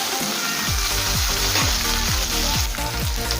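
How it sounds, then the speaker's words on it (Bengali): Steady, loud sizzling of drumsticks and green banana frying in hot oil, a dense crackling hiss throughout with repeated low scraping or bubbling bursts. "ঢাকা চাপা দিয়ে সজনে ডাঁটা কাঁচকলা ভেজে নেব।"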